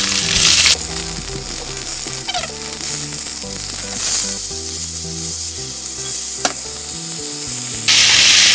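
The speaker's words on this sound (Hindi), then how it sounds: "ये मेरा प्याज थोड़ा भून गया, इसमें मैं डाल देती हूँ अभी शिमला मिर्च" Chopped onion and bell pepper frying in a hot pan, a loud continuous sizzle with occasional stirring scrapes and soft background music running underneath.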